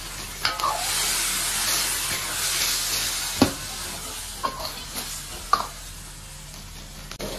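Cod simmers and fries in a chili sauce in a home kitchen, giving a steady sizzle broken by several sharp clacks and scrapes of stirring, with no voices.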